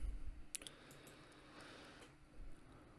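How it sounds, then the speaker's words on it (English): Computer keyboard typing, a short quick burst of crisp clicks followed by quieter scattered taps against a faint background hum. "If I can type CDL standings."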